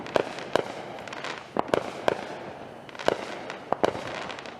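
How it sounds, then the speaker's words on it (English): Fireworks bursting in a backyard display, a rapid string of sharp cracks and pops scattered irregularly over a few seconds, moderately distant, no talk. "who needs Nashville fireworks?"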